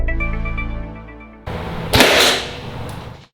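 A 100-grain broadhead arrow fired from a bow slams into a steel plate with a single sharp, loud metallic crack, after a fading tonal hum and a burst of noisy clatter, with no talking.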